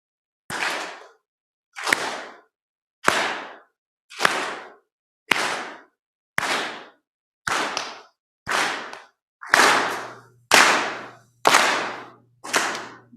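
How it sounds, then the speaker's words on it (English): A group clapping together in unison, eleven loud, sharp claps spaced at roughly one-second intervals, each ringing out briefly in an open room with silence between them. "when I clap, you're going to clap at the same time as me"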